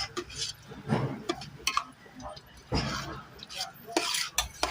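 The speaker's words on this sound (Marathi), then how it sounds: "त्याच्यामध्ये आता तीळ शेंगदाणे एकत्र करून मिक्स करायचे" Sesame seeds and peanuts are stirred into hot syrup for ladoos, cooked over a wood-fired stove, giving close, irregular scraping and clinking strokes of a spoon against the pot, with a voice talking faintly now and then.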